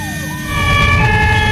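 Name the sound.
ambulance siren in traffic in Germany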